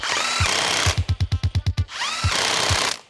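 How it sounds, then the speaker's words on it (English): Pneumatic rattle gun snugging bolts on a 20-year-old Toyota Cruiser: a loud whir, then a rapid burst of about ten sharp hammering impacts, then another whirring spin, close and alone. "I just rattle gun them down a little bit, not too crazy tight."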